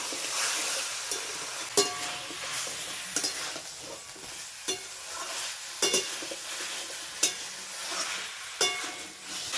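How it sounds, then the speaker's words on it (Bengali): Marinated chicken pieces fry with papaya in a pan under a continuous sizzle, while a spatula strikes and scrapes the pan at irregular intervals, close and clear with no one speaking. "তো এখন আমি এই চিকেনগুলোকেও হালকা ভেজে নেব।"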